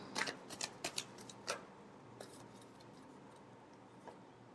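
Tarot cards being shuffled by hand, a quick run of crisp riffling snaps and flicks at close range, then a few faint taps as the deck settles, quiet and with no voices.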